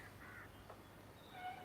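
Crows caw outdoors during a morning session, two or three faint distant calls over a low steady background.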